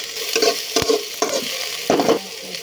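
Garlic, onion and tomato sautéing in a pan, steady sizzling broken by a few scraping stirs of a utensil, close and clear with no talk.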